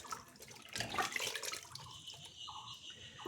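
Vegetable leaves are washed by hand in water, with soft splashing and sloshing that is close and quiet and lasts only a few seconds.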